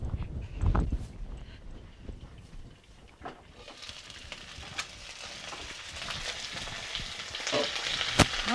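Peppers and potatoes fry in a pan with a steady, close sizzle that builds and brightens toward the end, broken by a few soft knocks and stirs.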